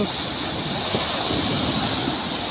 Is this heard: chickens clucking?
no